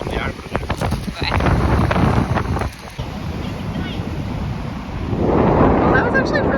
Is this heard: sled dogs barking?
no